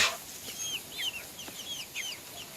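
Rooster and hens in a farmyard, with short rising calls repeating at a moderate distance over a quiet background.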